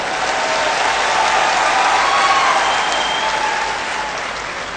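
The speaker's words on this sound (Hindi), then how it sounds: "ताली बजाओ तो फिर अच्छे ढंग से बजाओ।" Sustained audience applause at a Rashtriya Swayamsevak Sangh poetry gathering (kavi sammelan), a dense steady roar of many hands clapping close and loud, tapering slightly toward the end.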